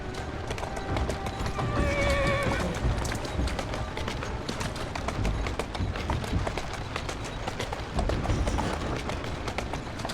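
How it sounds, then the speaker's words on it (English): Horse hooves clip-clop at a brisk trot through the streets of Victorian London in Assassin's Creed Syndicate, with a neigh rising near the start and steady hoofbeats continuing close by. "Who's a good horse?"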